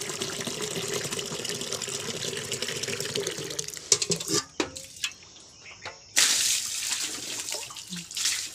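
Tap water runs steadily while a dog is bathed at home, a continuous splashing rush with brief interruptions and sharper splashes later, fairly close and alone without talk.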